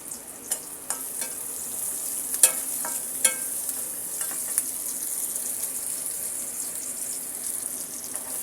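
Onions fry in hot oil in a wok with a continuous bright sizzle, broken by a few sharp clinks and scrapes as a utensil stirs them.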